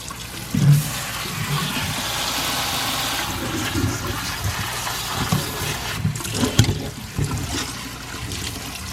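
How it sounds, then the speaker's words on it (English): Tap water runs steadily over Brussels sprouts being rinsed in a kitchen, a continuous close splashing with a few louder knocks and bursts along the way. "now we're gonna wash the Brussels sprouts"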